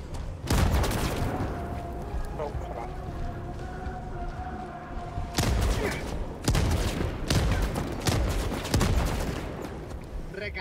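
Rapid bursts of video game gunfire crack out in loud volleys, a sustained stretch at the start, then repeated clustered shots after a brief lull, with a faint tone running underneath.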